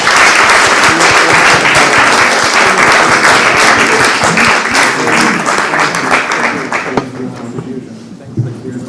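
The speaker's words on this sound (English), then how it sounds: "Please join me in applauding our speakers." A forum audience in London applauds the panel speakers after a session, dense steady clapping filling the room, fading toward the end with a voice beginning to speak.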